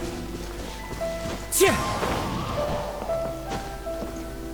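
A firework goes off in Genshin Impact with a sharp whooshing burst and crackle, loud at first then fading into scattered pops over soft game tones and light chatter.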